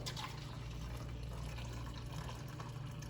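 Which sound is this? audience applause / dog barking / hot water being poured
hot water being poured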